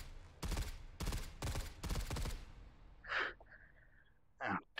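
An M4 rifle fires four loud, evenly spaced bursts in the Hot Dogs, Horseshoes & Hand Grenades VR shooter. Two short breathy gasps follow in the quiet after the shots.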